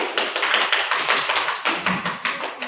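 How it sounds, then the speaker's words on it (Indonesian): Applause from a classroom of students during a teaching practice lesson, a steady run of many hands clapping together with rhythmic peaks, fairly close and with no voices. "aplaus untuk kelompok tiga"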